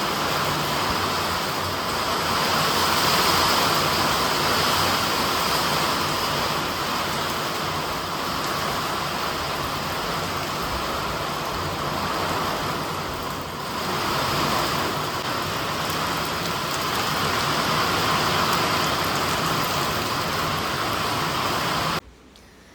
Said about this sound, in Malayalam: നല്ല വെള്ളം കഥറിക്കേ മഴ പെയ്യുന്നത്.